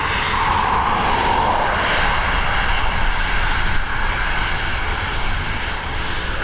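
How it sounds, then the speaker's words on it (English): Ryanair Boeing 737 jet at Dublin Airport, its engines giving a loud, steady, broadband roar that holds at full strength throughout, close and continuous with no voices. "Another Boeing 737 operated by Ryanair."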